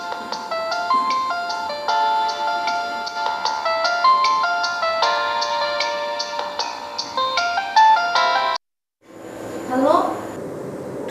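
A telephone ringtone plays as a repeating electronic melody for about eight seconds, fairly loud and close, then cuts off before a brief voice is heard.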